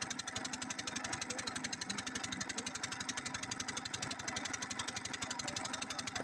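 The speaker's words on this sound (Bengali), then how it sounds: "দেখো সেই নৌকাটা যাচ্ছে" A motor boat engine at an Andaman fishing site putters with a fast, even throb at a moderate distance, staying faint and steady throughout.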